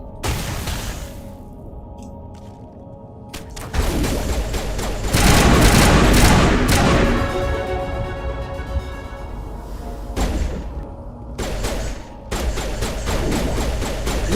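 Gunfire in the Mass Effect 1 sci-fi shooter: rapid bursts of shots and thumping impacts come in clusters, loud and close, separated by brief quieter gaps.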